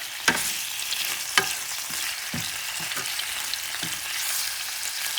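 Goat meat fries over high heat in a pan with a steady, dense sizzle, broken by several sharp clicks and scrapes as it is stirred.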